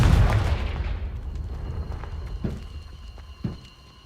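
A Confringo blasting spell exploding in Hogwarts Legacy: a loud close burst at the start that decays into a rumbling tail, followed by a few fainter thuds and a ringing, shimmering magical hum.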